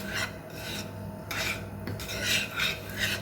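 Chocolate melting in a pan is stirred with repeated rough scraping and rubbing strokes, several rhythmic passes that swell and fade, close and fairly loud with no talking.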